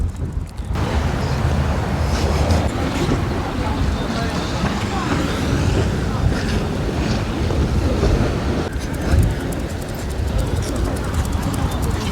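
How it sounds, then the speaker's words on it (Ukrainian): Strong wind near the sea buffets the microphone in a constant roaring rush, with broadband gusting noise and faint background sounds throughout. "Ого, тут вітер. Друзі, вітер дуже сильний."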